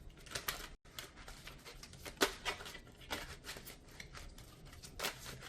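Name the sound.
shuffling a deck of tarot cards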